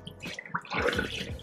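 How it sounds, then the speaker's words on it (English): Rinse water is poured off a bowl of rice, giving a close, brief splashing trickle that swells in the second half, with small drips and sloshes. "pour off that water, pour that out after you cleaned it"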